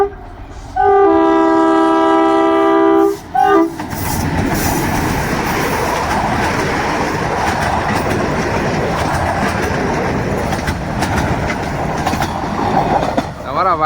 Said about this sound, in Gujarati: આવે છે અમારી ગેરમાંથી ટ્રેન